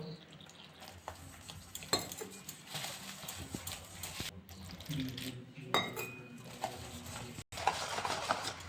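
Beguni batter being mixed with water, a close, continuous wet stirring and slapping with occasional clinks against the bowl, steady throughout.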